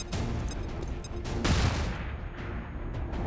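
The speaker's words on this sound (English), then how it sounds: "Flashbang." A flashbang grenade goes off in XCOM 2 (Long War 2 mod) with a sharp, loud burst, followed by a rumbling decay.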